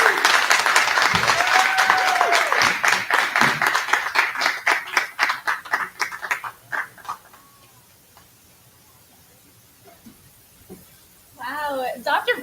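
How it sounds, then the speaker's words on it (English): An audience at a college commencement ceremony claps rhythmically in unison after a speech. The clapping fades out, leaving near quiet, then a voice begins to speak. "can we give him another round of applause, everyone?"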